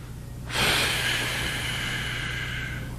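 A voice imitates a long, raspy snorting breath, a sudden harsh inhale or exhale that starts abruptly and trails off over a few seconds, close and alone.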